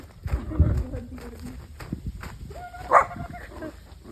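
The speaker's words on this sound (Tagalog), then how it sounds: "Tumatahol yan pag gusto niya maglaro." A dog gives a few sharp barks close by, mixed with footsteps and people talking in the background.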